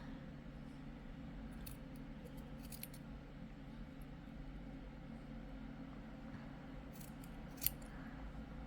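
Small scissors snip little fabric loops on one end of a handmade hair accessory, faint light clicks and snips scattered over a steady low background hum.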